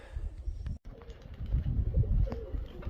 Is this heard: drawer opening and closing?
no